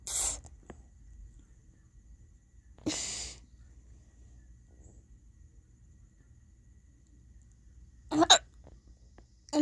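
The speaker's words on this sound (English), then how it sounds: "Imagine trying to sleep with hiccups." Sharp, isolated hiccups from one person, three or four abrupt close bursts separated by long quiet gaps.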